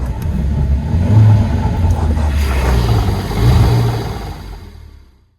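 A car engine runs with a loud, low rumble, revving up a little partway through before dropping away and cutting out at the end.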